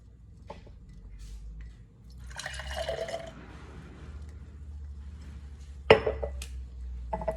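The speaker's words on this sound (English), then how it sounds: "I'm gonna strain the water or the solution" A solution strained into a glass, trickling and splashing, with a brief hiss of pouring, a sharp clink of glass or cutlery, and quiet drips around it.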